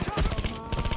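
Rapid automatic gunfire from the video game Payday 2 fires in a quick, even burst of sharp shots, close and loud throughout.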